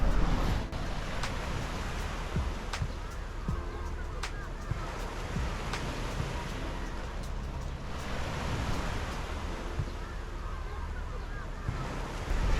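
Waves break on a Mediterranean beach in Savona, Italy, making a constant broad wash of surf mixed with gusty wind buffeting the microphone, with no voices.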